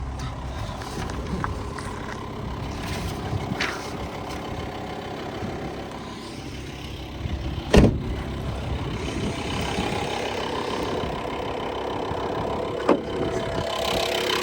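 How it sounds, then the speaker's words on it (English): A VW Transporter camper van engine idles steadily with a low, constant rumble throughout, broken by a couple of brief sharp knocks or clicks. "Hear the engine there as well."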